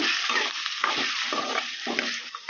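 Potatoes frying in oil in a pan, tempered with mustard seeds and cumin for potato rice, give a loud, close, continuous sizzle, broken by rhythmic scraping stirs of a spoon every half second or so.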